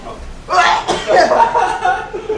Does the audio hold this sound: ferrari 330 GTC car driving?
no